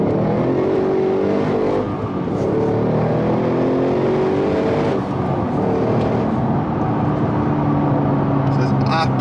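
A Holden HSV GTS accelerates hard up a steep hill, its engine note rising steadily through the gears from inside the cabin, loud and continuous with a voice talking over it.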